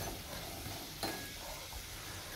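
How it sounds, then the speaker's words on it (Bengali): Potatoes for a fish curry fry in oil with a faint, steady sizzle, broken once by a small clink near the middle. "মাছের ঝোলের আলুগুলো ভাজা হয়ে গেছে, মশলাটা দিয়ে দেব।"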